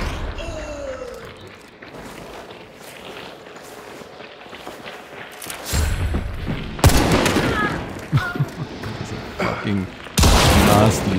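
Gunfire in Hunt: Showdown 1896 hits in a few heavy bursts: quiet ambience with faint talk gives way to loud booming shots and clattering echoes, the last blast arriving abruptly near the end.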